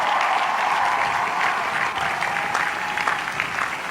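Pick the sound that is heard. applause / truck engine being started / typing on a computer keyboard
applause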